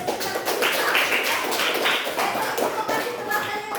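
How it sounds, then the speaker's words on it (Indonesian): Children clapping together in a classroom during a teacher observation session, a busy patter of small hands that is fairly close and sustained, with scattered voices and a few thumps mixed in. "Kita kasih tepuk tangan."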